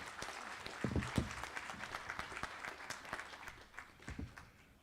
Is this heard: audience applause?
yes